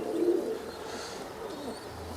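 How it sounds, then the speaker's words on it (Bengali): Pigeon cooing, a newly paired male among house-kept pigeons, with a low throaty coo near the start and softer murmuring continuing beneath a steady background hum. "মাশাআল্লাহ অনেক সুন্দর কবুতর।"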